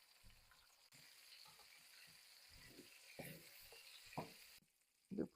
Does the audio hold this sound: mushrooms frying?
yes